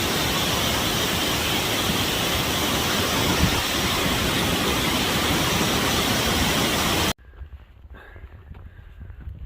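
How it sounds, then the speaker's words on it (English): Loud, steady roar of rushing water beside a hiking trail on the Appalachian Trail approach, a dense continuous wash of noise that cuts off abruptly, leaving faint quiet outdoor ambience. "So much water, a lot of water."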